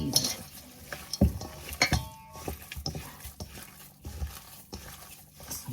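Turkey jerky meat being mixed with Hi-Mountain seasoning in a bowl, irregular close clinks and wet squishing pats with short pauses between strokes.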